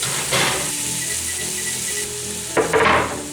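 Sausage sizzles steadily as it fries in a pan, a continuous close crackling hiss with a couple of louder bursts as it is stirred, with no talking.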